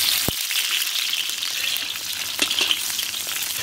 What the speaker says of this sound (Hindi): तो हम तड़का डाल देते हैं इसी में।